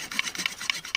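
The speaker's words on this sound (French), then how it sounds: "on va tester la scie. Le côté scie." Quick back-and-forth rasping strokes of a folding survival shovel's saw edge cutting through wood, about four or five bright strokes in rapid rhythm, close and clear.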